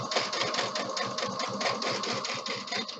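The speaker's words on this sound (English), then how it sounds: "I'm going to take my rheostat, my sewing machine pedal, gas pedal, and I'm going to start to stitch" A sewing machine stitches at a fast, even rhythm, its needle chattering steadily and close by with no talking.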